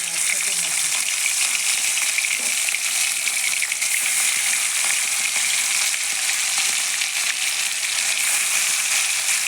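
Fish frying in four spoons of hot oil in a kadai, a steady close crackling sizzle that runs the whole time without pause.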